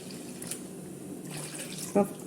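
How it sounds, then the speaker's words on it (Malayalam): A steady stream of thin coconut milk being poured into a pot for ada pradhaman, quiet and continuous, with a brief clink near the end. "നമുക്ക് ആദ്യം മൂന്നാം പാല് ഒഴിച്ചു കൊടുക്കാം"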